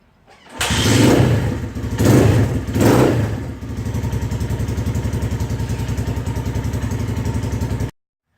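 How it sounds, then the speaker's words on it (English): A cold motorcycle, the Storm, fires on a single kick and is blipped in three loud revs. It then settles into a steady, close, even-pulsed idle for several seconds before cutting off abruptly. "One kick. Cold start, 9/17."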